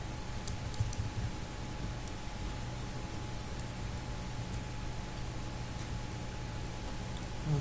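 Someone typing on a computer keyboard while filling in a registration form gives a steady run of light, quick key clicks close by over an even background hum, with no talking.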